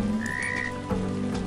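A frog croaks in the LEGO Harry Potter video game, a short steady tonal call over a faint watery background, with no voices.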